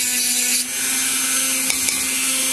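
A drill bores a counterbore into a piece of wood, a steady whirring machine tone holding throughout with brief sharp ticks near the end, close and fairly loud with no voices.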